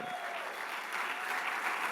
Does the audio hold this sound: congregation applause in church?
yes